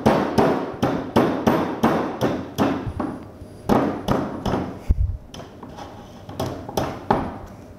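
Hammering on induction motor windings during rewinding: a run of sharp, evenly spaced hammer blows, close and loud, with a brief pause and a heavier thud midway before the strikes resume.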